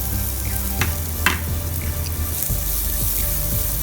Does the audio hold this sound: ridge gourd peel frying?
yes